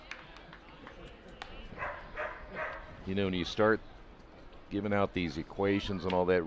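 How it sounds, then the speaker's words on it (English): Dogs bark at a Division III college baseball conference championship game, Franklin versus Anderson, with several loud, close yelps and barks in bursts during the second half while someone talks over the first part. "It's the dog days here. You can hear them barking."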